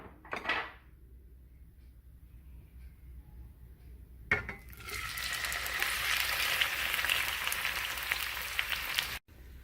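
Tomatoes drop into hot oil in a pan and set off a loud, steady sizzle and crackle of frying that runs for several seconds after a brief clatter, then stops abruptly; no one speaks.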